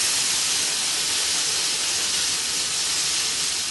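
Seitan sautéing in a pan, a loud, steady hiss of sizzling close up that holds without break throughout.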